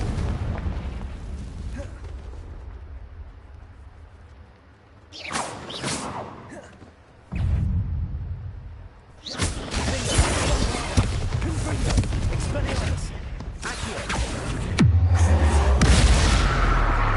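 Confringo spell explosions in Hogwarts Legacy, fired inside a cave: several loud bursting booms and crackling blasts in separate surges, with a deep rumbling hit near the end.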